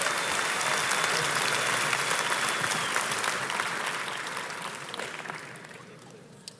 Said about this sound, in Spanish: Un aplauso al Señor. Vamos, más fuerte por lo que Él hizo por nosotros.